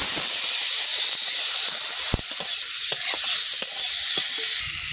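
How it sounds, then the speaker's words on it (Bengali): Fish fry loudly in a pan of oil, a strong continuous sizzle and hiss with occasional sharp crackles and utensil scrapes close by. "মাছগুলো ভেজে নিচ্ছি।"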